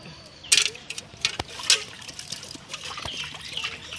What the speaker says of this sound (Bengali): এখন আমি দুধ ছেঁকে নিব।